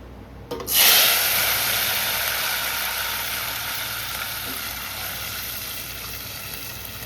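Boiled dal cooked with chilli and mango hits a hot pan with a sudden loud sizzle, then settles into a steady bubbling hiss that fades only slightly over several seconds, with no talking.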